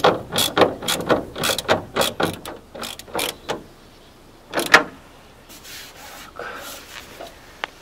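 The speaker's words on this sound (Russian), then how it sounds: "Осталось затянуть." Ratchet wrench tightening bolts during repair work on a Renault Master/Opel Movano-type van: quick bursts of sharp clicking ratchet strokes in the first half, then a brief pause, a short burst of clicks, and fainter mechanical rustling.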